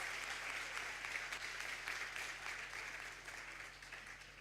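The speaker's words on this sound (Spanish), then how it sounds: "Vamos a darle un fuerte aplauso." Sustained applause from a conference audience, a dense even patter of many hands that slowly fades toward the end.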